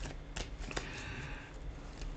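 Tarot cards are shuffled in quick riffling bursts, with sharp crisp flutters and slaps close up against a steady low hiss, no voices.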